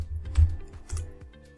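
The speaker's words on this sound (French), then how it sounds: "On va sur le CMD, on tape Heroku login." A few quick keystrokes tap on a computer keyboard while the Heroku login command is entered, light and close, with brief pauses between the clicks.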